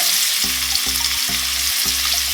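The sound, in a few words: onions frying in hot oil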